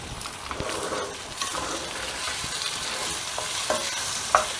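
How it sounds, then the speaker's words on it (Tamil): Ajwain spices temper in hot oil for mango green chilli thokku, a steady close sizzle and crackle with stirring scrapes and a few sharp pops, no voices. "ஓமத்தில் இப்போ தாளித்து காமிச்சிருக்கேன் பாருங்கள்"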